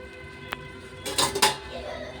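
A spoon scrapes and clinks against a pan while egg omelette masala curry is stirred, one light tap followed by a short burst of quick metallic scraping, close and fairly quiet.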